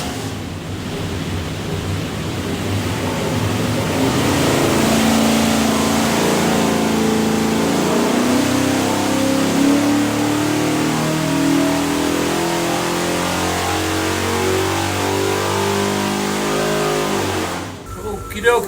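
A 427 stroker V8 from a 1972 Gran Torino revving on a dyno, a loud sustained roar that climbs steadily in pitch through a long pull before dropping off near the end.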